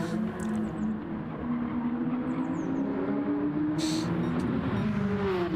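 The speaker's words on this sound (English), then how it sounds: "final Porsche, the number 10 Kenwood on track" A Porsche race car runs on track during Le Mans Classic qualifying, its engine a continuous, steady drone that rises slowly in pitch, heard from a distance under constant ambient noise.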